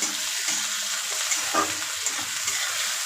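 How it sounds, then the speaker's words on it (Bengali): Bitter gourd and fish frying in a pan give a continuous hissing sizzle, with a few soft stirring scrapes and one small clink midway, close but moderate in level, with no speech. "এবার আমি নাড়া দেবো।"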